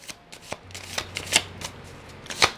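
Tarot cards being shuffled by hand, a series of sharp papery riffles and taps in uneven bursts, close and fairly quiet, with a faint low hum beneath.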